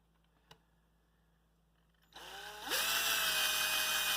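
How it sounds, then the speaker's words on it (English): A small electric drill bores a hole in the plastic case of an analog multimeter, running on its smallest bit. A click comes first, then the motor spins up and holds a steady, loud, close whine to the end. "I'm going to drill this hole"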